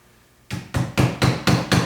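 A hammer drives a small nail into a slab of live edge wood, with six sharp, evenly spaced knocks ringing out close and loud after a brief quiet start.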